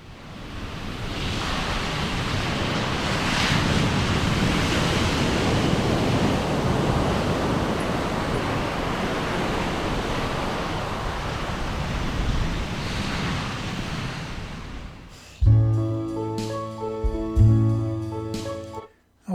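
A song begins: a long wash of ocean-like surf and wind noise gives way near the end to clear sustained musical notes with a low pulse.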